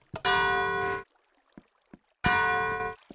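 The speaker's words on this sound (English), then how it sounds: "And that's the bell." A bell about ten meters away, right outside a window, rings with two loud, sharp strikes a little over a second apart. Each strike rings on briefly before fading, with faint scattered clicks in the quiet between them.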